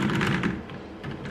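Cherry MX Board 2.0 keyboard with linear Cherry MX Red switches and re-looped stabilizers being typed on, including shift and space bar presses: a quick, fairly quiet run of close key clacks and thocks with no talking.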